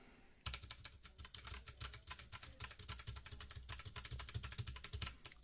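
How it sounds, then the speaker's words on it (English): Mechanical keyboard keys are struck hard in a fast, steady stream of sharp clicks and clacks, close and alone, with no talking. "I'm hitting it pretty hard too"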